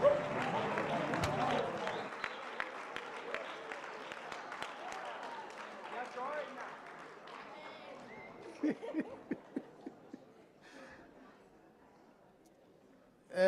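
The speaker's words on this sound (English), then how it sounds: "A big round of applause for the choir." Audience applause for a choir after its performance, a dense wash of clapping that thins into scattered individual claps and fades out over several seconds.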